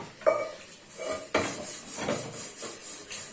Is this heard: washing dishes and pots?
yes